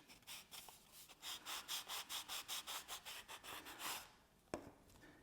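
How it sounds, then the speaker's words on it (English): Sanding blocks rubbed lightly along the edges of an ultralight fiberglass airframe tube, a steady run of about a dozen close, rhythmic scrubbing strokes, ending with a single sharp knock. "We're just going to use some simple sanding blocks to refine the edges."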